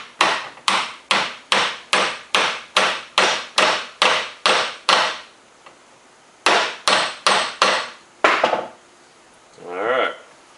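A brass hammer taps a new bearing into a Harley Ironhead Sportster starter housing: a steady run of about a dozen sharp metallic strikes, a short pause, then five more blows, followed by a brief voice.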